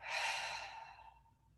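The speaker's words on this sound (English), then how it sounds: "breathing in through your nose and out through your mouth" A single slow breath drawn in through the nose and released through the mouth, soft and close with an airy hiss that fades out, no talking.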